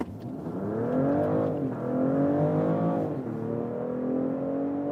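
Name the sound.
BMW X5 plug-in hybrid accelerating hard in sport mode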